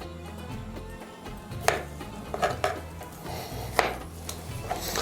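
A knife cuts raw chicken breast into skewer-sized cubes on a board, giving a series of soft, irregular chopping taps and clinks, close by with no talking.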